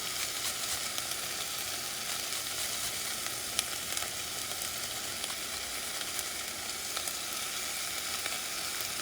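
Minced garlic sizzles in a hot pan for Puerto Rican beans, a loud, even frying hiss that runs unbroken with faint crackles, close up and without speech.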